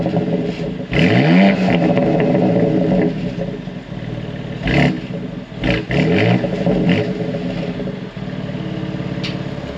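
Exhaust of a 2021 BMW X3 M Competition, a near-600-horsepower performance SUV, heard from the rear: a steady engine drone with two louder rev surges, fairly loud and close, with no talking.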